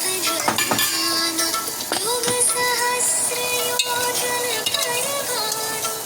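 Onions and coriander seeds are stirred in a pan for wheat rava upma, with steady sizzling frying under repeated scraping and clinking of a spoon against the metal pan, close and continuous.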